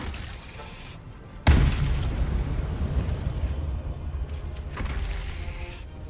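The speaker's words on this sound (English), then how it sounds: "because of all the explosions Karlach is causing" Loud explosions set off by Karlach in Baldur's Gate 3: a sudden heavy boom after a quieter stretch, then a sustained roaring, rumbling blast wash that keeps churning with smaller bursts near the end.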